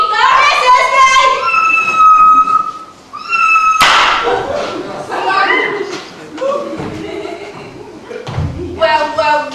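A performer on stage in an amateur youth theatre production of a comic fantasy play voices a drawn-out cat meow and caterwauling, loud and near, mixed with spoken lines and a sharp thump.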